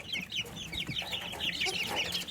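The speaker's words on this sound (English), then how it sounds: "So we got 2 sets of chicks out here." Chicks peeping and cheeping close by, a busy overlapping chorus of high chirps with soft clucks underneath.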